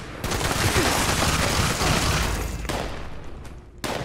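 Assault rifle fire in the video game Fallout 76, a dense, loud, continuous barrage of gunshots and impacts lasting several seconds, briefly breaking off near the end before resuming.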